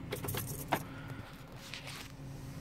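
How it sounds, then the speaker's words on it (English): A key jingles and turns in the ignition of a Vauxhall Vivaro van, switching the ignition on: soft, close metallic key rattles over a faint, steady cabin hum. "So put the ignition on,"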